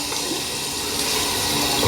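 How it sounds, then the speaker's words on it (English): Warm water running steadily from a bathroom tap into a sink, a continuous close hiss and splash with no talking. "If I turn the tap that way, I'll get some warm water."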